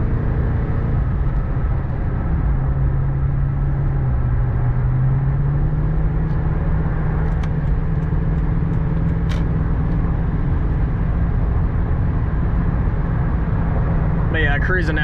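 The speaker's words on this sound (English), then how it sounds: "Road noise is kind of loud, and you can always hear a constant engine rumble" Inside a 2014 Toyota Tundra cruising on the highway, a constant low engine rumble and steady road noise drone throughout, with a faint clicking near the end.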